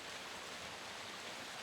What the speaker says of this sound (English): The water is running from the upper water passage.